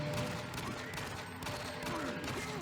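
Gunfire from a video game run on an old ATI HD 4670 1GB graphics card, a dense, continuous rattle of shots and explosions over a busy game soundscape.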